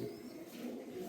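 Soft, low cooing of high-quality pigeons kept by a breeder, a steady murmur of close coos running throughout the short stretch without speech.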